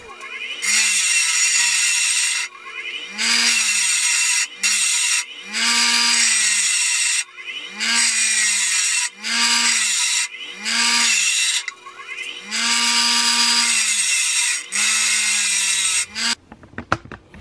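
A metal triangle link for a Sur Ron Light Bee is ground flat in repeated loud, rasping bursts of a power tool, about a dozen passes of one to two seconds separated by short pauses, with clattering handling at the end.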